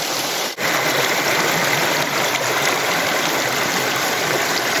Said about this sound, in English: Need to get some more water flow in this dab, Larry.